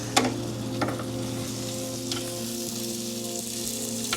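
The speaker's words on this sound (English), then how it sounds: "This is air frying." Chicken drumsticks cook in an air fryer, giving a steady low fan hum with soft continuous sizzling and a couple of faint clicks, close and alone with no talking.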